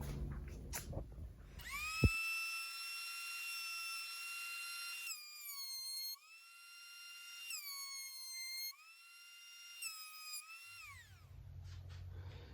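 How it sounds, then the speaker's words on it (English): A surface planer finishes the body surfaces of an archtop guitar. A high, steady motor whine runs for several seconds at a time, with pitch dips as the wood feeds through. Brief knocks come at the start and end, and no one speaks. "I'll probably finish up both surfaces on the surface planer now."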